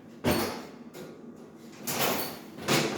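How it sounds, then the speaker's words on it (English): A kitchen oven is tipped over onto its back, producing a couple of heavy scraping, sliding thuds with a shorter clunk between them, close and loud with no talking. "I'm gonna flip the oven right on its back"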